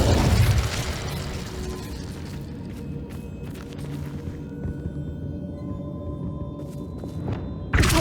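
The Incendio fire spell cast in Hogwarts Legacy, a game effect that opens with a loud thumping burst and then gives way to a crackling, rumbling fiery wash that lingers for several seconds before another sharp hit at the end.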